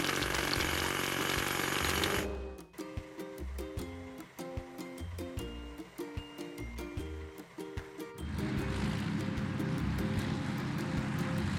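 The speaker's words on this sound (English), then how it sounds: "Hydraulic hammer." Loud, continuous broadband pounding and rumble from a hydraulic hammer breaking rocks, breaking off briefly for a stretch of rhythmic clanking and engine tones before the roar returns.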